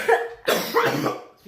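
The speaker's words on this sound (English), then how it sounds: "The amount of coughing we're gonna have to edit" Someone coughs in a few harsh, throaty bursts with short gaps between them, close and fairly loud, like a person recovering from a coughing fit.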